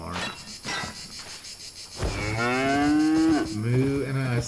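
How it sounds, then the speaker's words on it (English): Cow in Albion Online letting out a long, loud, close moo that rises and falls, following a stretch of softer ambient game noise with no talking. "Moo, and I absolutely love that moo."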